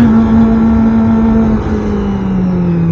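A Kawasaki Ninja ZX25R motorcycle engine pulling in third gear, a loud, smooth high-revving whine that holds steady, then dips slightly as the pitch drops and settles.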